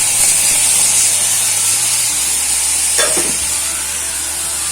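Tomatoes frying in a pan with methi bhaji, giving a steady close sizzle with a stir or scrape around the middle, no voices.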